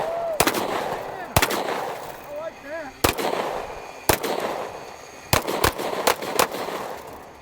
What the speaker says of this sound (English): 180 grain .40 Smith & Wesson full metal jackets